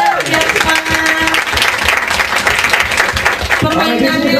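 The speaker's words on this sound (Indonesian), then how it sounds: "Tepuk tangan dulu semuanya. Biar semangat." A group of parents clapping together at a children's games session, dense steady applause mixed with voices and a cheer partway through, fairly loud and close throughout.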